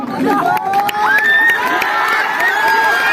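A crowd of spectators at a kabaddi match cheers and shouts continuously, loud and close, with a bustle of high excited voices rising and falling throughout.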